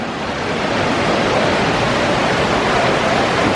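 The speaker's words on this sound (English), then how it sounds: "I'm not sure how noisy this waterfall's coming through, but it's pretty loud in person" The indoor waterfall at Gaylord Opryland's Cascades pours in a loud, dense, steady rush of falling water that fills the space with no talk over it.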